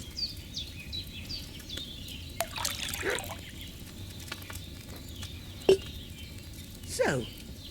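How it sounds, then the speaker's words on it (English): Wine trickles from a pitcher into a cauldron in Kingdom Come: Deliverance II, a faint, uneven pouring dribble under ambient birdsong, with a couple of brief clinks and swishes. "First, you have to pour the right base into the cauldron."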